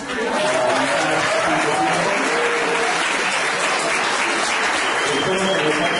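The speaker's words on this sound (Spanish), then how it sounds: "también les un aplauso." Steady, loud applause from the audience at a symposium closing, sustained and even throughout with a few voices faintly audible beneath the clapping.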